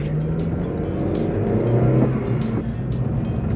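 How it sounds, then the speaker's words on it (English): Steady droning road noise from inside a moving 8th-generation Honda Civic Si on winter tires, a constant low tire roar with engine hum underneath, loud and continuous throughout. "I'm gonna say sorry about the tire noise."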